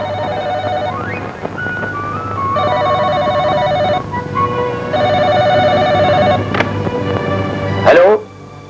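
An office telephone rings loudly in a 1993 Punjabi film, three long electronic trilling bursts separated by short gaps over a steady low hum, ending in a sharp click as the receiver is lifted.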